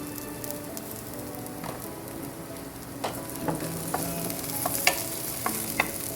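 Salted plantain pieces fry in a pan while being stirred; a soft continuous sizzle runs underneath, broken by scattered sharp scrapes and clicks of the utensil that grow more frequent toward the end.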